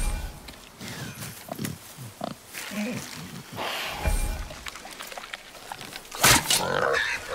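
A wild boar in the video game God of War, grunting and snorting in short rough bursts amid rustling movement, with a louder squealing outburst near the end; voices speak over parts of it.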